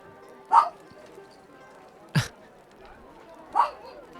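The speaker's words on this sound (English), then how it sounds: "these dogs are loud in here" Dogs bark indoors, giving three separate sharp barks spaced over a few seconds against a quiet background, with a voice speaking faintly underneath.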